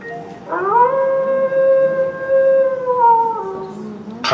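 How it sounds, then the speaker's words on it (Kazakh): A recorded wolf howl, one long sustained tonal call that rises at the start, holds steady and slowly falls away, clear and close against a quiet background. "Қасқыр."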